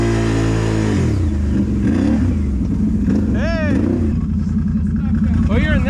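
Motorcycle engines rev loudly and up close while stuck dirt bikes are worked free on rough trail terrain, with the pitch rising and falling in repeated surges and a voice speaking over the engines.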